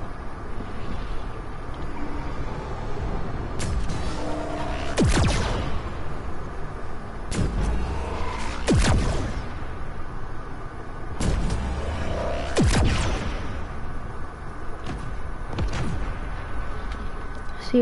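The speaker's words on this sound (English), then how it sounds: "I'm just gonna destroy structures with this vehicle." A vehicle in a video game drives into player structures, with several loud crashing impacts spaced through a steady rumbling engine and wind-like background noise.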